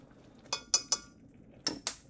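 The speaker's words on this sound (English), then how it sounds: "You keep stirring it." A spoon clinks against a pot while peanut butter fudge is stirred on a hot plate, with five sharp metallic taps in two quick groups over a quiet background.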